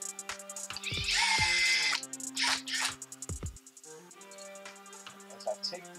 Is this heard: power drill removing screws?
yes